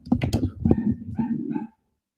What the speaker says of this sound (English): Guys, my dog is driving me freaking bananas.